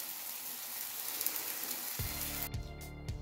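Steady crackling sizzle of thin pancake cake layers frying in a hot pan, with a clatter and low thuds near the end as the pan is handled.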